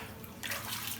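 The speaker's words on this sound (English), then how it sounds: "throwing water" Water is thrown onto a gum bichromate print during wet processing, a soft splashing wash that swells into a louder, broader rush halfway through the brief moment.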